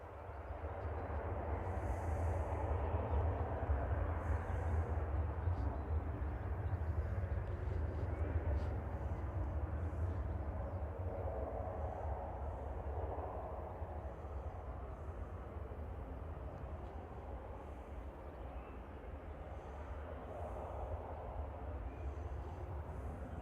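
A Ryanair Boeing 737-800 jet departs Manchester Airport bound for Dublin, heard as a steady, distant low engine rumble and roar that swells and slowly fades over about twenty seconds.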